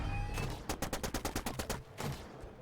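Ranged weapon fire in a video game: a rapid burst of about ten loud, evenly spaced shots, then a single follow-up report, close and clear over a low game soundscape.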